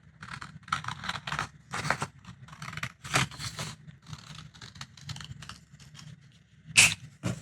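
Scissors snip through paper along a traced template line for a chicken Easter egg holder craft, giving a series of close, crisp cuts in irregular bursts over quiet pauses.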